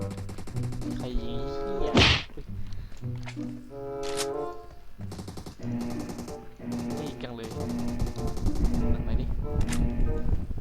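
Gunfire in PUBG: sharp shots, one loud blast near the start and scattered fainter reports afterward, mixed with game music and voices.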